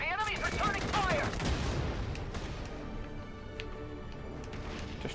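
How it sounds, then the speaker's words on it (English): Gunfire in the Valkyria Chronicles 4 video game, a dense fusillade of rapid shots and booms over steady battle ambience, fairly loud and continuous with brief voice-like tones early on. "Returning fire!"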